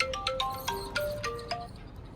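A mobile phone rings while a call is being placed, playing a quick melodic sequence of bright electronic tones that repeats steadily at moderate volume, with no talking.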